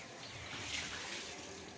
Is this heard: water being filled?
yes